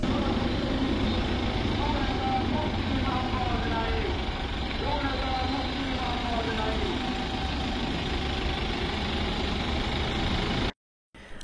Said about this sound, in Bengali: পিকআপটির ইঞ্জিনের সাউন্ডটি আপনাদেরকে শোনাচ্ছি।